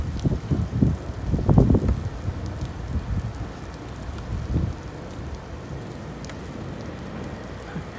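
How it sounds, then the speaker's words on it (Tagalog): Continuous heavy downpour hiss in Saudi Arabia with a few rumbling gusts early on, then settling into a steady, even wash of rain. "Lakas ng ulan."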